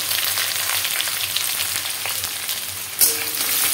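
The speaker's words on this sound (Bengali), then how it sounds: "এটাকে ভালো করে নেড়ে চেড়ে ভেজে নেব, খুব বেশি লাল করব না" Chopped onions fry in a pan for a Bengali jackfruit kalia, giving a dense, continuous hiss close by. The sizzle holds steady with faint stirring scrapes, and a brief sharp clack comes near the end.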